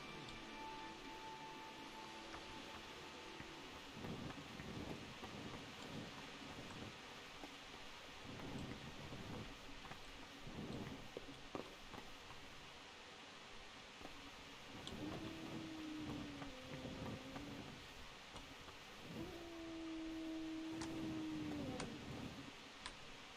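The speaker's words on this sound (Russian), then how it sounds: "Дождь." Steady rain hiss with a few soft low rumbles of distant thunder, at a low, even level throughout, no voices.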